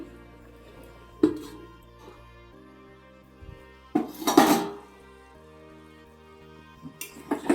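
A metal lid settles onto a cooking pot of curry with green chillies, giving a few sharp clanks and a louder rattling clatter midway, then light knocks, with no talk.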